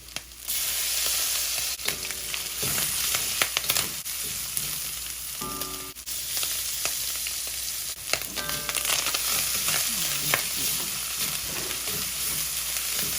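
Garlic and ginger sizzle loudly in hot oil while being stir-fried for mapo tofu, a steady frying hiss broken by scrapes and clanks of a spatula against the pan.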